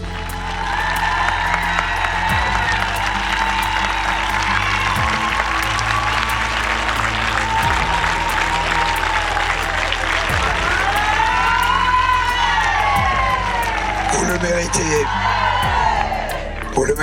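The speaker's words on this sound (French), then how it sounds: "je voudrais une salve d'applaudissements pour vous applaudir" An audience at an award moment for a women's rally stage in the Erg Chebbi desert bursts into loud, sustained applause with whoops and cheering, over a pulsing music beat.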